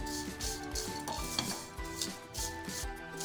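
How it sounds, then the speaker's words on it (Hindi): Coloured vermicelli roasting in a pan over a low flame, with steady scraping and clinking of stirring against the pan and a faint sizzle underneath, close up and without talk. "इसके अंदर हम डालेंगे रंगीन सेवइयाँ, इसे मिक्स करेंगे और इसको भी हम कुछ सेकंड के लिए बिल्कुल स्लो फ्लेम पे रोस्ट करेंगे"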